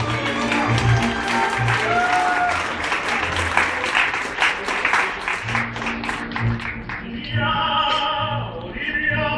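Guests at an outdoor wedding ceremony applaud, a dense, continuous clapping that carries for several seconds. It thins briefly and then picks up again, with faint background voices.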